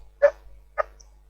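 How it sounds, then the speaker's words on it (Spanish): Two dogs bark in the background of a Catholic discussion programme: two short separate woofs about half a second apart, moderately close, with no talk over them. "con su perro de fondo que está saliendo en este programa, que se quiere hacer escuchar"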